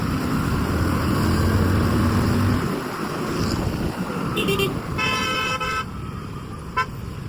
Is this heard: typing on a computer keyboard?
no